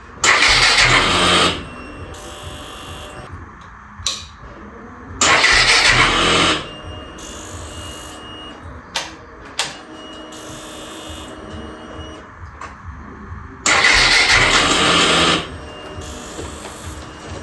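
A Suzuki FI ABS motorbike's self-starter cranks in three separate bursts of a second or so each, with quieter clicks and faint handling noise between the attempts and no sign of the engine catching.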